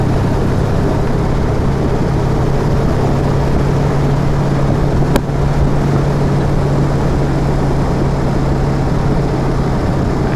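A 1934 Packard Super Eight Boattail Speedster on the move gives a steady low engine drone with a constant broadband road and wind rush. It stays even and close throughout, with no talking.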